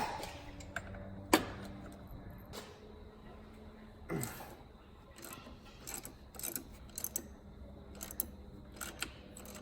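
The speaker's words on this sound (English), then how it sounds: "we're still going to do it the old-fashioned way with some manual wrenches." Manual wrenches tightening a bolt on a Mazda RX7 engine bay during an LS swap, heard as scattered close metallic ticks and clicks with a few sharper knocks, no talking.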